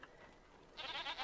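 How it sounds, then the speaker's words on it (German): A goat in the video game Dragon Age Origins bleats faintly in a wavering, quavering call heard at a distance over a quiet ambient background. "Hört ihr, ne? Da meckert eine Ziege."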